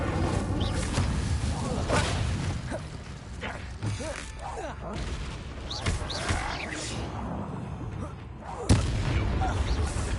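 An Incendio fire spell cast in Hogwarts Legacy bursts with a whooshing, booming flare amid mechanical clatter and dense game effects, with repeated impacts over about ten seconds.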